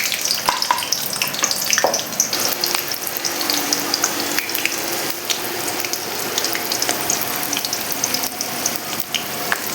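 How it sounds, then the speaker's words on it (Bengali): Green chillies sizzle and crackle in hot oil in a pan, a steady close frying hiss with occasional stirring clinks, with crushed garlic to follow, and no talk. "আমি এখানে কটা কাঁচা লঙ্কা ফেলে দিয়ে দিচ্ছি।"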